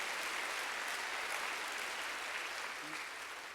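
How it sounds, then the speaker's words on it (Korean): A church congregation applauds during a sermon, a continuous, dense patter of many hands clapping that stays steady and slightly distant, tapering a little at the end. "박수로 하세요."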